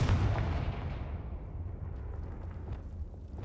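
Confringo fire spell blast in Hogwarts Legacy, a single heavy booming explosion at the start that rumbles and fades away over a few seconds.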